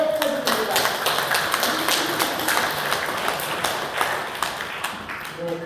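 An audience claps vigorously at a Catholic lay organization's lecture gathering, a steady run of many hands with some distinct sharp claps standing out, continuing for several seconds at moderate loudness.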